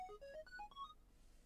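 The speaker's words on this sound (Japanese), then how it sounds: "あ、電話" A phone in the Danball Senki video game rings with a quick, faint electronic melody of bright stepping notes that fades after about a second, no voices.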